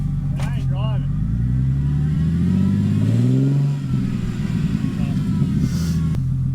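A car engine revs repeatedly at a race track on a $1000 circuit while the vehicle fails to drive, loud rising and falling revs up close, with people talking over it.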